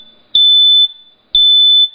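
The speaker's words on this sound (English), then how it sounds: "Now it's going to beep." A DeTech smoke detector gives two loud, piercing high beeps during a test. Each follows a click and lasts about half a second, with a short silence between them.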